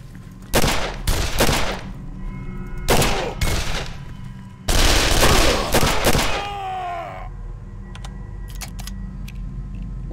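Loud gunshot blasts in the survival horror game Condemned, several separate bursts of fire followed by a longer, heavier blast with ringing metallic echoes, then quieter clicks.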